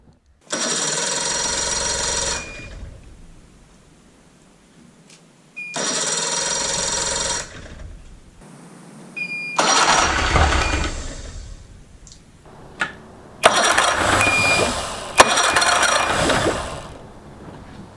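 A small Evinrude outboard boat engine with a new battery cranks and sputters in repeated bursts of a few seconds each, separated by quiet gaps, with clicks and a final roaring attempt.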